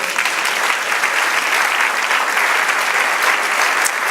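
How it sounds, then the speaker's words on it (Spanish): A church congregation applauding during a sermon, a loud, dense, sustained wash of many hands clapping together without letup. "Dele aplauso al Señor"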